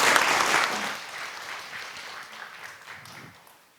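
Audience applause from a crowd at an English-learning event, starting loud and full, then slowly thinning and fading over a few seconds with no voices over it.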